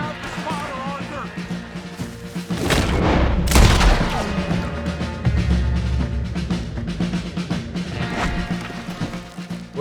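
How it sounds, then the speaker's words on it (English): Heavy booms and crackling bursts of cannon fire and rifle shots in a Red Dead Redemption 2 battle, one loud blast standing out mid-clip amid a continuous rumble of combat. "We need to take out that cannon!"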